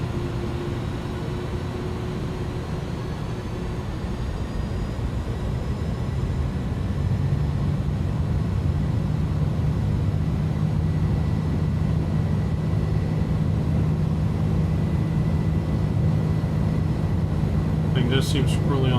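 Airbus A310 jet engines spool up to takeoff thrust in Microsoft Flight Simulator, a steady broadband roar with a low drone that swells louder after a few seconds and holds, with a brief click near the end.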